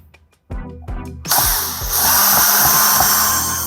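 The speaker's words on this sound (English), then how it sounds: "I've got my drill out here to make this part easy" A power drill removes stripped drywall screws from an outdoor electrical box, starting with a few short bursts and then settling into a loud, steady whirring spin up close.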